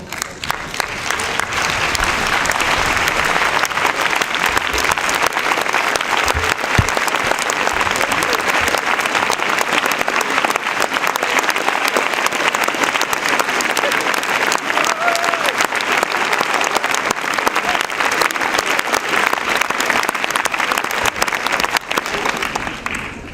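Sustained, loud audience applause at a film screening at the Capitole cinema, dense clapping from a large crowd that continues steadily for over twenty seconds.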